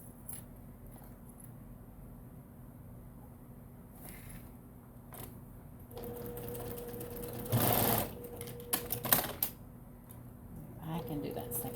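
A sewing machine stitches fabric for a double-pocket bag in short, loud whirring bursts separated by quieter handling noise, with a person talking nearby.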